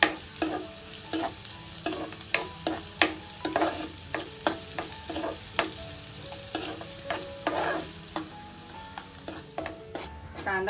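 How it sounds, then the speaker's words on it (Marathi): Chopped onion sizzling in hot oil in a pan, with a spoon or spatula scraping and stirring in frequent sharp clacks over a continuous frying hiss, close and fairly loud, no speech. "कांदा चांगला परतून घ्यायचा।"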